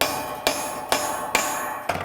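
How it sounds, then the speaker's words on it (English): A hammer strikes a rivet set on a rivet in sheet metal, five sharp metallic blows in an even rhythm about half a second apart, close and clear with nothing else heard. "Then I take the rivet set and I put the dimple on top of the rivet, and this time I hammer it until the rivet"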